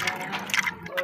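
Liquid drained from a tamarind mixture splashes and trickles briefly, with soft gurgling pours and drips close by, no voices.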